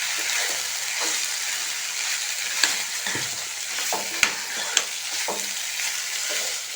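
Cut chicken pieces frying with softened tomato in a pan, a steady close sizzle broken by scraping stirs and a few sharp clicks of the spoon against the pan.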